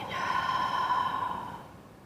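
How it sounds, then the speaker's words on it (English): A single long, deep breath drawn in through the nose, a soft airy rush that swells and fades over about a second and a half, close and alone. "let's just now take a big breath"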